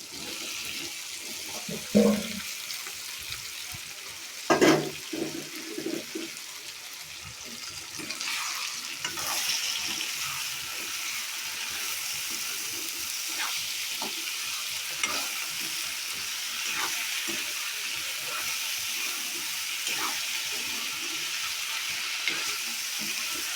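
Potatoes and capsicum frying in a pan over a medium flame, giving a steady broadband sizzle with a few louder clatters near the start as the vegetables go in and are stirred.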